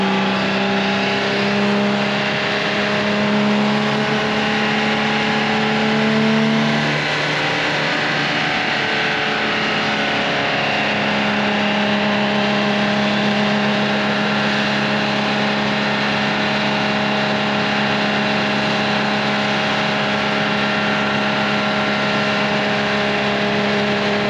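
Over-3,000-horsepower red super truck at a sled pull, attempting a world record: a loud, sustained, distorted engine roar at full power, its pitch drifting through the run, with no talk.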